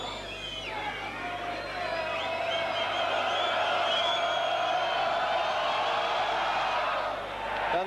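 Bradford Northern rugby league crowd roaring after a penalty kick at a Regal Trophy match against Leeds, a sustained loud swell of cheering and whooping that holds steady for several seconds, then eases toward the end.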